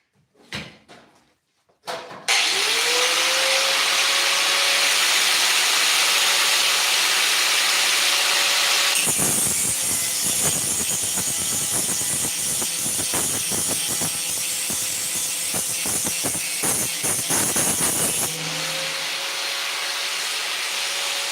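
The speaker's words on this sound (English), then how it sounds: "I'm going to go grind this weld out" An angle grinder works a weld out of a metal hood on a hand-fabricated Lamborghini-style supercar body. After a few knocks the motor spins up to a loud, steady whine, then grinds harshly against the metal for several seconds before easing back to free spinning.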